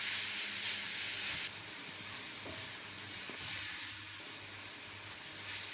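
Grated, squeezed zucchini sizzles in a little vegetable oil in a hot frying pan, a steady soft hiss and crackle that eases slightly after the first moments, heard alone without talk.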